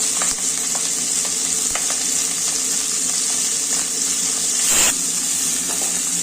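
Constant close sizzling of onions and green chillies frying in hot oil for broken-rice upma, with light stirring scrapes and a brief louder hiss near the end.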